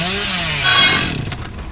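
A chainsaw in the video game Dead by Daylight, a loud buzzing engine rising sharply in pitch into a bright cutting whine that then cuts out, heard alone.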